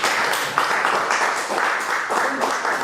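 An audience applauds a guest speaker at a health talk, giving a steady burst of clapping that stays fairly loud and even for the whole time.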